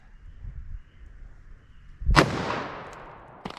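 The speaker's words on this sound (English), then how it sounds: "let's try our 44 mag" A .44 Magnum hard cast round fired in a ballistic test sounds as one sharp, loud gunshot with a decaying echo tail, preceded by quiet ambient noise.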